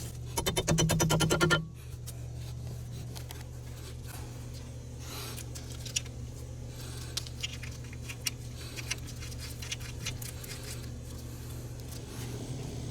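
Ball joint pinch bolt going back into the front suspension of a Ford Focus, opening with a brief loud metallic rattle, then a low steady hum with small scattered clicks and taps of the bolt and tools, close by.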